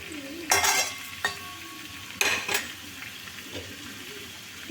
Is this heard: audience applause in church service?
no